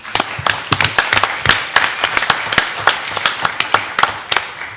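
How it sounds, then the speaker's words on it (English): An audience at a city council meeting applauds lifeguard staff, with moderate, close clapping of a modest crowd going on steadily throughout. "We should all give them a round of applause."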